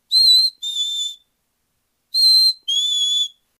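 Two pairs of clear whistled notes, a high tone dropping to a slightly lower one, repeated after a pause, imitating a chickadee's call.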